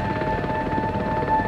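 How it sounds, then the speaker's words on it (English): A helicopter in the video game Far Cry 4 drones steadily with a rotor rumble and a sustained whining tone, continuous and fairly loud throughout, with no talking. "It's only four of them in a helicopter."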